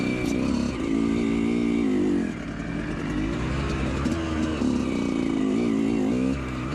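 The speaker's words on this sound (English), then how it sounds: "Notice how the bike begins to bog down as I climb." A Yamaha YZ125 two-stroke dirt bike engine labors and bogs down climbing a hill, its revs sagging and surging unevenly, heard up close with no talking.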